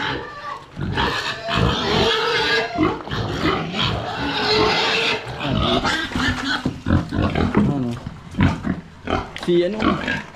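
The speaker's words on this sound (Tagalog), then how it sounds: "Nag-iingin na po yung baboy. Mga baboy." Hungry pigs on a farm waiting for a cooked banana stalk feed, grunting and squealing loudly and close in a near-continuous noisy chorus.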